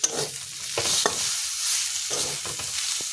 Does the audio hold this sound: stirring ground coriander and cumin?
yes